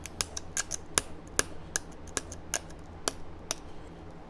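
Sharp, crisp clicks of a stone point being trimmed by flintknapping, about a dozen separate taps in an irregular rhythm, close and fairly quiet with no talking.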